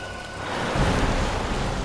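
Heavy rain pours down steadily at night outdoors, a dense continuous wash of hiss that swells slightly partway through, with no voices over it.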